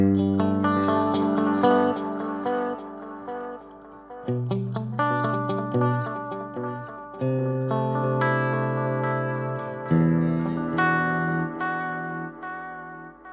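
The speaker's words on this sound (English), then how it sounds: "If I go for the single head delay, I have a very long, as you can see, delay time is on max delay" Electric guitar played through an Amp1 Mercury Edition with a single-head tape-style delay set to maximum delay time, loud sustained chords and notes trailing long repeating echoes, with no talking.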